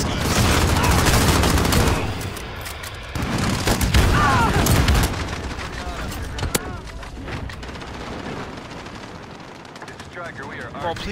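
Sniper rifle fire in Call of Duty, loud sharp shots and explosions piling up amid busy game chaos, with a person talking over the action throughout.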